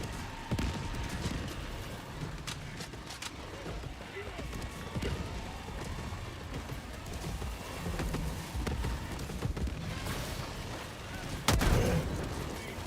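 Autocannon fire in the shooter game Helldivers 2 on a top-difficulty Helldive mission, a few heavy booming shots spread across a dense, noisy battle mix with a sharp loud burst near the end.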